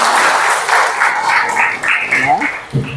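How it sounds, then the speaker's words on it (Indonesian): Classroom applause for a student, a steady wash of clapping lasting a few seconds that sounds mixed with voices. "beri aplaus untuk Amri."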